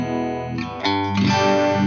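Clean electric guitar notes and chords through a subtle Phase 45 phaser pedal, with a gentle sweeping, swirling modulation, played alone at a steady moderate volume.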